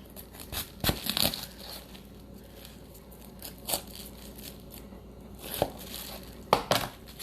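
A cabbage core being broken out of the head by hand in a kitchen, giving a few scattered crunchy snaps and crinkling tears, close but fairly quiet, with short gaps between them.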